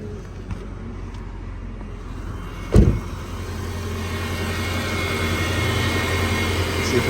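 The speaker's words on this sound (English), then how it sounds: "Now you could see the fan cycling on and off. The clutch is probably too cycling on and off." Radiator fan and AC compressor clutch on a 2007 Subaru cycling on and off, heard as a steady engine-bay hum and whir with a sharp click-thump partway through, followed by a slightly louder running drone.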